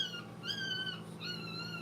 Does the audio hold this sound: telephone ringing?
no